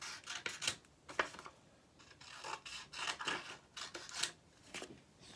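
Scissors snip through two stacked sheets of paper at a craft table, a series of crisp close cuts in an uneven rhythm with short pauses between strokes.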